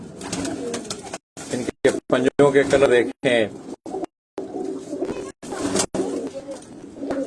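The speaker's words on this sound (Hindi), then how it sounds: "आज पट्टी वाले कबूतरों का शोर" Banded high-flying pigeons coo steadily in the background while someone speaks close by over them, the calls filling the gaps between his words.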